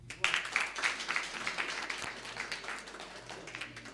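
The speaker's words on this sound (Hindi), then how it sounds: "तालियां नहीं रुकनी चाहिए" Applause from a live audience at the Kinnaur Idol semi-final in Bhabanagar, with dense, continuous clapping that swells at the start and then holds steady, with faint voices underneath.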